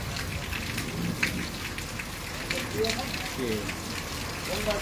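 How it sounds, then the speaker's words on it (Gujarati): Rain patters and hisses steadily in Halvad, Gujarat, with scattered louder drops and splashes standing out from the continuous wash. "રાયદ્રામાં પણ વરસાદ ચાલુ છે"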